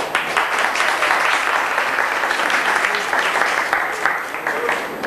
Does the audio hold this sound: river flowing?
no